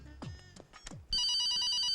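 A telephone in a comic film scene starts ringing with a steady, loud electronic trill after a few brief vocal sounds, continuing unbroken to the end.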